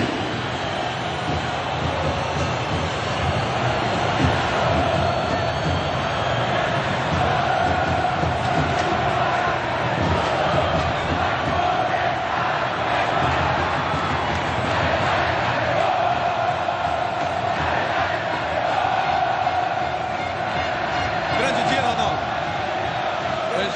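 A large football crowd roars as Flamengo walks onto the pitch at Engenhão stadium, a continuous, loud wash of cheering and chanting with a commentator talking over it.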